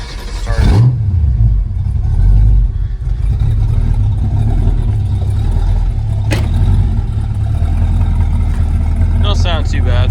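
A warm 1982 Chevy S10 pickup with a small cam and bullet-style mufflers cranks and fires, then settles into a loud, steady, rumbling idle close by, with a brief rev and some talk over it.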